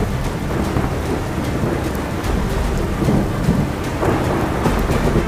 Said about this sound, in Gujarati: વીજળીના કડાકા ભડાકા સાથે કમોસમી વરસાદ જોવા મળ્યો.